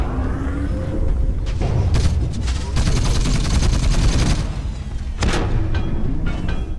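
Weapons fire in the mech game Hawken, a dense, loud and continuous fusillade of shots and booms layered over one another for several seconds.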